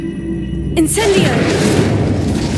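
A fire spell is cast in Hogwarts Legacy, a sudden whooshing burst that swells into a loud, rumbling roar and keeps going after a brief tonal lead-in.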